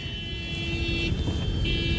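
Steady heavy road traffic rumbles through Chandni Chowk in Delhi near the Jain temple, a dense mix of engine drone and a sustained horn or alarm tone, with no voices.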